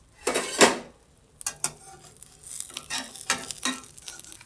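Beef brain fries in a pan with a soft, continuous sizzle. Loud utensil scrapes and clanks come from the pieces being flipped, in uneven bursts close by, with no voices.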